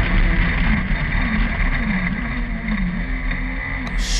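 Racing car circling the Kirkistown circuit in a Northern Ireland Sevens Challenge race, its engine running slightly rough: a loud, continuous engine drone with a wavering pitch as it brakes into the hairpin, mixed with wind buffeting.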